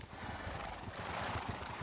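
Minecraft horses neighing and clopping as a player brings dozens of them along on leads, a steady low bustle of game animal sounds with faint whinnies throughout.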